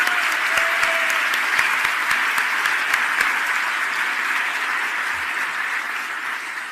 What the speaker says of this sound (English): let's together welcome everyone with a good round of applause